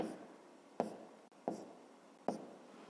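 Pen writing in a notebook during a fifth-grade math exercise: quiet scratching strokes with three sharp taps or ticks spaced under a second apart, close and faint with no talking.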